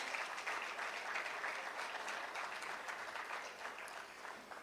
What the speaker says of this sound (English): let's give them a very loud round of applause